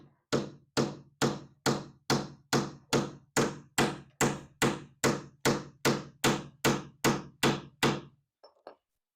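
Steady, evenly spaced hammer blows nail trim to the bottom of an old cabinet being upcycled, about eighteen sharp close knocks in a regular rhythm, then a couple of lighter taps at the end.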